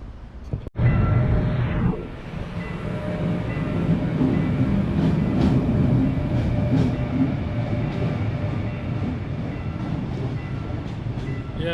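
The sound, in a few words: train passing near Seoul station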